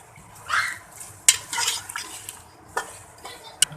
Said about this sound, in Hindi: जब तक हमारा चिकन भुनता है